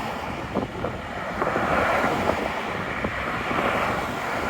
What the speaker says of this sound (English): out in the middle of the bridge, it's very windy